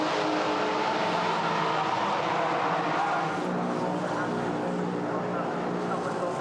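GT4 race cars sweeping through the Parabolica at Monza, a continuous loud engine roar that stays steady throughout, with commentary audible over the engine noise.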